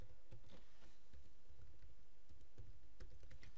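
Soft, rapid computer keyboard typing taps along in a quiet room, close and faint with irregular clusters of keystrokes and brief pauses.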